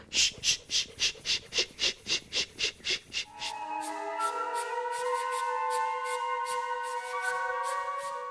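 Rhythmic, breathy inhale-exhale sounds performed as part of a live score for the silent film Nanook of the North, about a dozen quick even puffs, then giving way to sustained tonal music with steady pulses.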